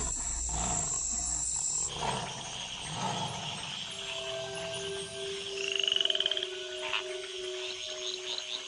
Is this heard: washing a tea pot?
no